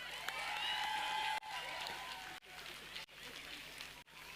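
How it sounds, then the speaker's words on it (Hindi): Audience applause at a preschool annual day function, a moderate wash of clapping that keeps cutting off abruptly in short bursts, with some crowd noise mixed in. "जोरदार तालियां।"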